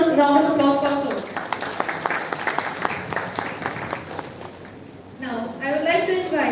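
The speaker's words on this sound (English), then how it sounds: "Can we please have a huge round of applause for Sir?" A hall audience at a college forensic investigation workshop bursts into a round of applause, dense clapping in the middle that thins out between stretches of a speaker's voice at the start and end.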